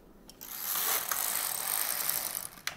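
An LK-150 knitting machine carriage slides across a row of needles, producing a close, steady whirring and clicking sweep that starts after a short pause and ends with a sharp clack.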